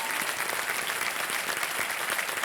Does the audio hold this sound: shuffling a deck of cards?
no